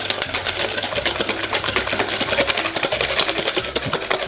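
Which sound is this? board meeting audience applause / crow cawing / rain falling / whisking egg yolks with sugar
whisking egg yolks with sugar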